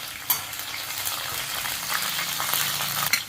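Shallots, garlic cloves and green chili sauté in oil in a pan, giving a steady close sizzle with spoon scrapes and stirring clatter running throughout, and no voices.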